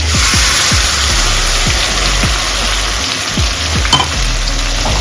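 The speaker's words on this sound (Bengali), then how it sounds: "এবার বেটে রাখা মশলাটা দিয়ে দেবো।" Ground spice paste hits hot oil with onion pieces and cumin seeds in a Bengali fish roe curry, giving a loud steady sizzle and frying hiss, with repeated low thumps of stirring throughout.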